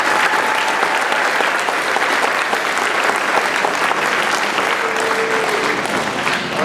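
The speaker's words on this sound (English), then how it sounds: "So a round of applause for these guys" Sustained applause from an audience at a blue ribbon school ceremony, dense and even clapping that holds at steady volume for several seconds.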